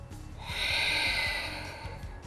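A slow, drawn-out exhalation during a Korean yoga class, a soft breathy rush that swells and fades over about two seconds, close and steady, with faint low thumps beneath.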